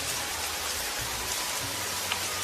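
Heavy downpour of rain, a dense continuous hiss of falling water with low patters, loud and unbroken throughout.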